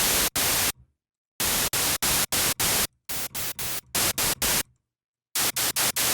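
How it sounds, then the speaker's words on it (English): Bursts of synthesized white noise from Harmor, each with a very sharp attack: loud hissing blocks start and stop abruptly in quick irregular runs, separated by moments of dead silence. "our white noise now has a very sharp attack"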